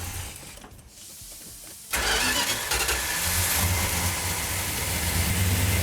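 An older car engine cranks with its choke held, then catches and fires into a loud, close, rough idle that keeps running steadily to the end.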